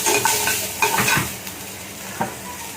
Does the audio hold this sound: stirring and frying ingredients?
yes